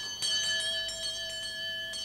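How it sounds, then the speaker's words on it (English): A servants' quarters room bell at Tatton country house rings with a sustained metallic tone, struck again and again in quick succession so the overlapping rings hang in the air, heard alone without any voices. "Each room had a different sounding bell, so it could be identified by sound alone"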